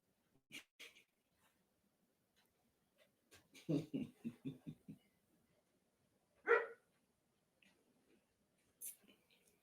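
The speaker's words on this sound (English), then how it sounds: "The dog is barking." A dog barks in a quick run of several sharp barks at moderate distance, with a single louder yelp-like burst a little later and scattered faint noises around it. No one talks over it.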